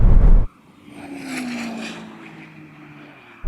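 Tesla Model S Plaid, Ferrari SF90 and Porsche 911 Turbo S in a drag race: a loud burst of noise opens, then a steady rising whine of acceleration holds under a broad rush before another loud burst at the end.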